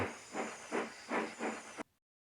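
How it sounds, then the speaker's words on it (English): Steam hissing from a steam locomotive sound effect comes in four rhythmic, evenly spaced puffs, close and moderately loud, then cuts off abruptly into silence. "Gordon grunted and hissed away."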